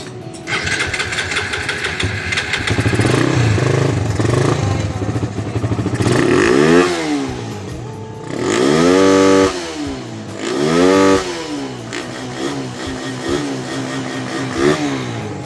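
A small motorcycle engine, its carburetor freshly cleaned and no longer backfiring, runs loud and close, rising and falling through several revving bursts over a steady idle, with no talk.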